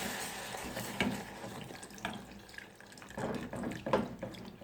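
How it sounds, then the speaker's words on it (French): Milk pours and splashes into a béchamel mixture as it is stirred, with uneven liquid gurgles and soft scraping bursts at close range. "je rajoute délicatement le lait en remuant le mélange"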